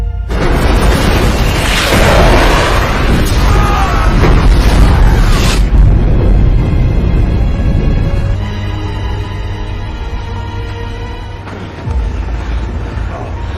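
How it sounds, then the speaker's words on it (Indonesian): A huge explosion from bombs dropped by a fighter jet in a war film: a loud, deep roaring blast with rumbling debris that gradually fades into lingering low rumble. "pilot menjatuhkan bom ke posisi tersebut hingga akhirnya terjadilah ledakan super dahsyat"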